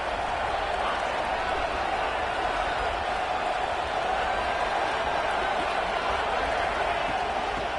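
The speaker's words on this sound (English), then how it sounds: "This crowd is trying to inspire this defense to make a big red zone stop." A stadium crowd roars to fire up the defense ahead of a red zone stand in a football game at Manhattan, a continuous loud wash of cheering that holds steady with no break.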